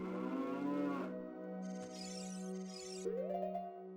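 A cow moos repeatedly in The Legend of Zelda: Ocarina of Time, in a hole in the ground on the way up a mountain, steady, tonal game lowing over a constant background hum, with no talk.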